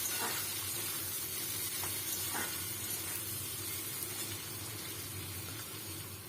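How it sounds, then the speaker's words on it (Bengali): Chopped onion fries in hot oil with bay leaf and dried chilli for a Bengali fish dish. A steady, dense sizzle and hiss runs unbroken from start to finish with a few faint stirring ticks. "পেঁয়াজটা বেশ লাল করে ভেজে নেব।"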